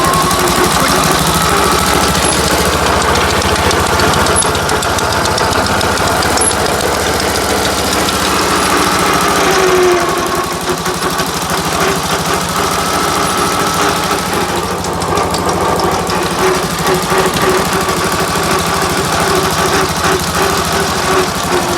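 A Ransomes MG40 crawler tractor engine runs steadily in gear, a loud, close, continuous mid-pitched chug with a knocking vibration and a brief shift in tone midway, no voices.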